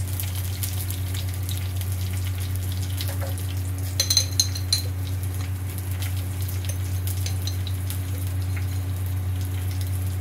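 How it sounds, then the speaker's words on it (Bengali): Panch phoron five-spice and radhuni seeds fry in hot oil for a Bengali lentil sukhta, giving a steady, close sizzle over a low hum, with a brief clatter of a pan or utensil midway. "আর এতে দিচ্ছি দেখুন 8 চামচ 5 ফোড়ন"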